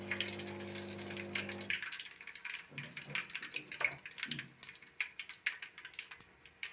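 Fenugreek, mustard seeds and cumin crackle and sizzle in hot oil for a Nellore-style fish curry, a broadband hiss with small pops that follows a brief steady hum at the start. No one speaks.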